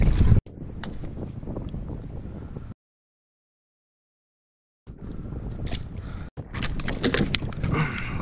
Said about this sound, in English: The damn wind is coming right at me.